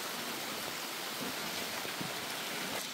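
Steady rain patters down in a continuous wash of noise, fairly quiet, with scattered drops hitting a surface and no voices.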